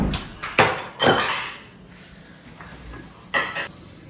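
Daikon radish rubbed against a metal grater for mooli paratha, a few sharp scraping strokes with pauses between them, close and fairly clear with light kitchen clatter and no talking.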